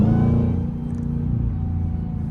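Dodge Demon 170 V8 with supercharger, heard from inside the car as a loud, steady low engine rumble that eases slightly after the first half second, with no voices.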